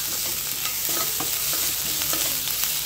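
Loud, close frying in a pan with brisk repeated stirring, a dense sizzle broken by regular scraping strokes of a spoon, no voices.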